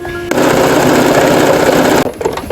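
An Usha Janome Wonder Stitch Plus sewing machine stitching, a loud rapid mechanical whirr running steadily for about two seconds, then stopping abruptly.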